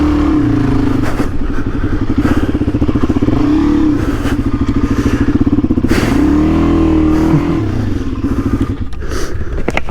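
A Suzuki DR-Z400E motorcycle engine revs loudly and continuously up close, its pitch rising and falling with throttle blips, with occasional clattering and scraping sounds.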